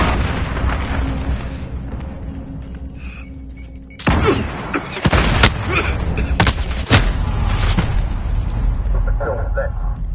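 Grenade blasts and gunfire in an online shooter match, heavy booms and bursts of shots landing throughout amid ongoing battle noise, with players calling out over the action.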